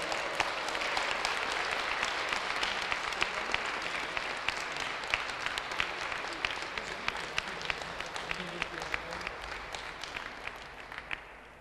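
Audience at a foundation ball applauding a classical ballet group of girls, a dense, sustained ovation of many hands with distinct sharp claps popping through, gradually tapering toward the end.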